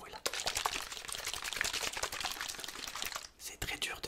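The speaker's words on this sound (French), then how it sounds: "Donc écoutez bien le bruit de chacun des deux sprays." A second handheld water spray bottle gives a run of close, hissing spritzes in rapid succession, one brief pause near the end, then more bursts, with nobody talking.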